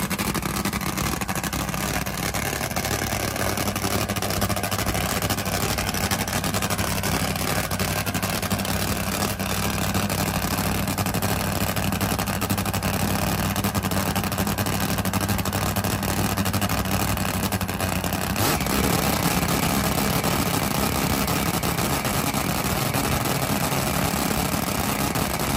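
A 1,500-horsepower Top Fuel drag racing motorcycle engine on a hot, greasy track, a steady loud engine roar running continuously with a sharp change in tone near the end, no talking.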